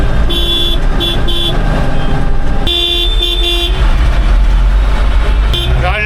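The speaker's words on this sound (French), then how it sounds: "J'aurais jamais autant klaxonné de ma vie, je crois." Loud car horns honk in repeated bursts, short and long, over heavy traffic rumble during a protest demonstration, with blasts stopping and starting throughout.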